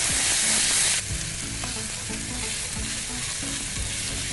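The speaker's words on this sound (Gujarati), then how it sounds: "હવે એની અંદર અડધો કપ ઝીણા સમારેલા ટામેટા લઈએ છે, એને પણ સાંતળી લઈએ." Finely chopped tomatoes sautéing with onion and ginger-chili-garlic paste in a hot pan, a loud continuous sizzle with soft rhythmic stirring scrapes, close up and with no voices.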